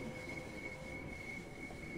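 Class 465 electric multiple unit running on the Gravesend to London Charing Cross line in Train Sim World 3, a steady rumble of rolling wheels with a high squealing tone held throughout, close and continuous.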